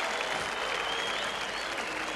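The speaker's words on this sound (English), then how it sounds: "Give them some applause," A studio audience at a televised celebrity knockout sports contest gives a steady wash of applause, dense and continuous but somewhat subdued and distant, with no speech on top.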